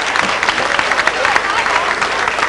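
Crowd applause at a Bavarian musicians' parade in Moos in 1992, a loud, continuous patter of many hands for the district councillor, with some voices mixed in.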